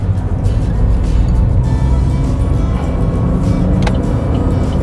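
A manual-transmission gasoline car pulls away from a stop as the accelerator is pressed and the clutch released. The engine drone is steady, loud and close, and it continues throughout with no talk.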